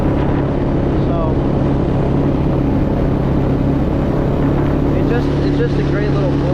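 A 250cc four-wheeler ATV engine drones continuously on a trail ride, a loud, steady close-up rumble that never lets up.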